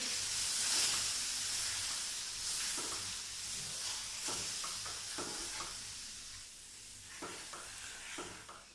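Semolina, gram flour and sugar halwa is stirred in a pan on high flame, a soft frying sizzle punctuated by repeated scraping strokes of the spoon, close and fairly quiet, with no talking.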